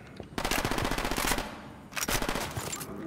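Automatic gunfire in the video game Ghost Recon Wildlands comes in two rapid, loud bursts separated by a short pause, with no talking.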